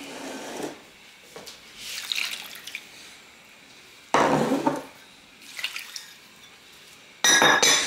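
Water poured into a bowl of ground sausage meat seasoned with pepper and marjoram, heard as short splashing pours and wet sloshing with a few sharp bowl knocks, close and fairly quiet between bursts.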